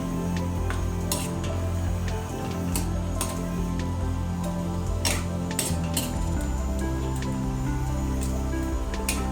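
Pinakbet vegetable stew being stirred in a pot, with scattered soft clinks of a utensil against the pot and wet squishing of vegetables, fairly quiet and irregular with no talking.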